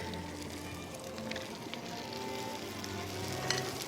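Whole shell-on, head-on prawns sizzle in a pan with garlic and chili, a steady soft frying crackle with a few small pops, heard alone with no talk.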